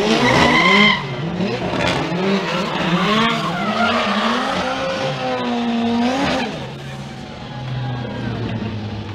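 A Formula Drift car's tires screech in a long, loud skid as it spins out during competition at Palm Beach, the squeal sweeping in pitch under an engine note, with a commentator talking over it.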